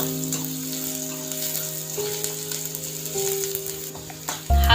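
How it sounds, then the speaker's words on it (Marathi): Onion sizzles steadily in hot oil in a pan for a potato vegetable dish. The moderate frying hiss runs continuously under a faint tonal hum, and a closing clunk is heard at the end. "कांदा भाजून घेऊया छानपैकी तेलामध्ये."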